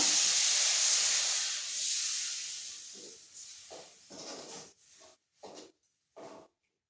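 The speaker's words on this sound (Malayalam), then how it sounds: "ഇനി ഇതിൽ വിനാഗിരി ഒഴിച്ചു കൊടുക്കാം" Vinegar hitting a hot fish pickle mixture bursts into a loud, close steam hiss that gradually fades, then breaks into a few short sputtering spurts separated by silence.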